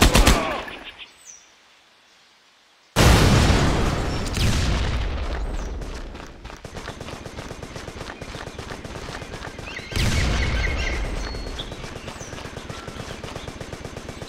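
Heavy explosion in a Colombian jungle warfare shooter: a loud boom bursts in after a quiet gap and rolls out into rumbling debris, followed by sustained gunfire and a second blast-like surge near the end.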